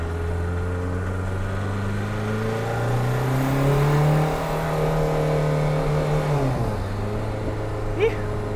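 A warmed-up car fitted with a VNT turbo revs hard, its engine tone climbing steadily, then dropping sharply with a gear change before pulling again, loud and close from inside the vehicle.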